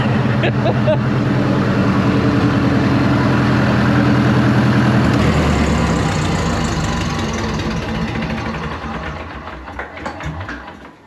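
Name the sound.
International TD-9 bulldozer diesel engine running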